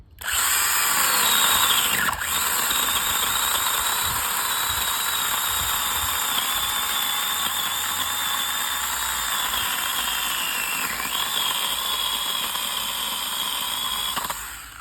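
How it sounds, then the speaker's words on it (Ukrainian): A cordless power saw whines steadily through a hard maple branch for about fifteen seconds, loud and close, its motor pitch dipping briefly under load. "обидві пилки вони гарно пиляють, гарний різ. Але це у нас це клен, і він доволі твердий."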